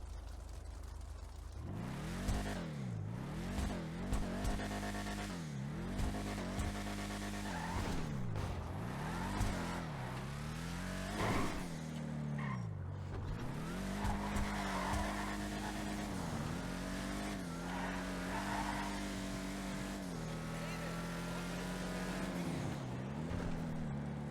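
Vapid Ellie car engine in GTA Online revving repeatedly, pitch rising and falling in waves, with occasional tire squeals and a steady roar under it throughout.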